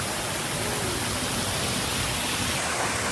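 A waterfall at Ardent hot spring in Camiguin pours in a steady, dense roar that stays loud and even throughout, with no voices over it.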